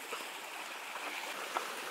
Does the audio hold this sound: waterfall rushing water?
yes